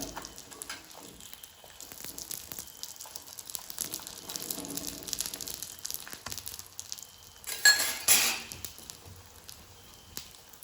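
Bun parottas are flipped in a hot pan, giving soft sizzling and a few light scraping, clattering handling sounds, with a sharper burst of sizzle near the end.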